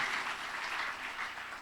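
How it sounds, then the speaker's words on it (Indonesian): A church congregation breaks into steady, dense applause that fills the space evenly from start to finish, many hands clapping together with no voices standing out. "Tepuk tangannya yang paling meriah buat Tuhan kita."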